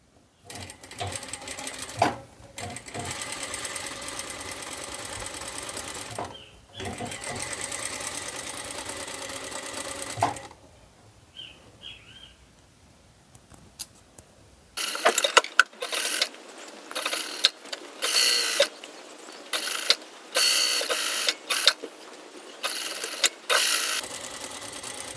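A sewing machine stitches fabric, sewing a strap into a seam on a peplum blouse, with steady runs of rapid mechanical stitching broken by short pauses and a quieter stretch near the middle, close and alone.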